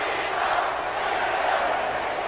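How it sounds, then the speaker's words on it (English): A WWE 2K18 arena crowd at a RAW event keeps up a steady, loud chant for John Cena, a dense, even roar of many voices with no break. "And the crowd chanting for Cena."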